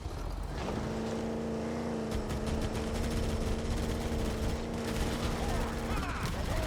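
Warthog vehicle engine in the Halo CE remake video game, a steady droning hum that holds for several seconds under a loud wash of gunfire and battle noise.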